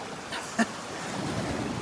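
Ocean waves wash onto the beach at Delnor-Wiggins, a soft, steady surf hiss heard from a distance, mixed with wind and one brief knock, with no talking.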